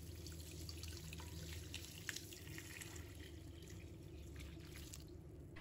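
Clean water runs into a basin holding torn enoki mushrooms for a quick rinse, a steady faint splashing and trickling flow with no talk.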